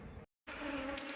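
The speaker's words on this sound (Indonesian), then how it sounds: "lebah sangat agresif. Seperti ini. Lebah sudah keluar semua." Aggressive Asian honeybees (Apis cerana) buzzing in a dense swarm during a hive transfer, a close steady hum briefly cut by a moment of silence before resuming.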